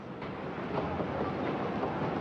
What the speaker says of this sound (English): Train now arriving at platform 14 is the 9:50 for Grantham and King's Cross.